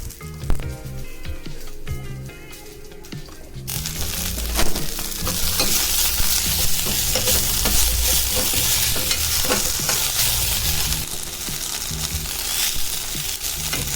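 Ingredients for mudakathan keerai dosa sautéing in oil in a pan, a continuous crackling sizzle with scraping stirs that swells after a quieter opening and keeps steady and close.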